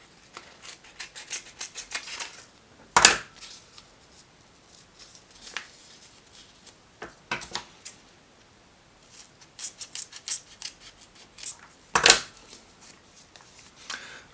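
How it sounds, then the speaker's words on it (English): Scissors cut a shape out of felt for a Spitfire throttle quadrant kit, with intermittent close snips and soft rustling of the material, a few sharper cuts standing out in a quiet room. "use your little template, get some scissors"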